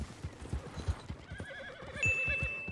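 A horse in Red Dead Redemption 2 gives a whinny over a steady rhythm of hoofbeats, moderately loud and continuous, with tonal game sounds rising behind it and no talking.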